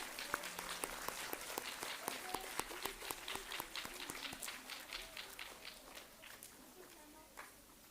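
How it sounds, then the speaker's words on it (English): Audience at a school scholar badge ceremony for Grade 5 learners claps steadily, a soft, distant patter with scattered sharper individual claps sustained throughout. "A huge round of applause for them,"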